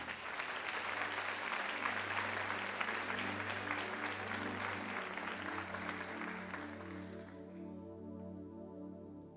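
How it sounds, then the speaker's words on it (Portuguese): Congregation applauding during a church service, a dense wash of many hands clapping steadily and loudly, then fading out near the end while a low sustained organ-like tone continues underneath. "Você pode aplaudir a Ele"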